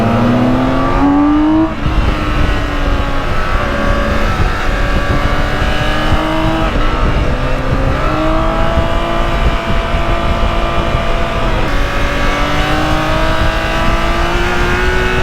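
A very fast bagger touring motorcycle with an engine that feels like a car motor accelerates hard. The engine roars steadily loud and close throughout, with rising revs climbing through the gears.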